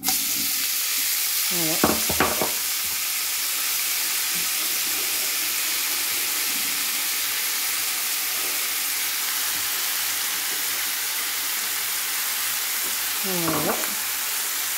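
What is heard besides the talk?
leeks frying in bacon fat in a pan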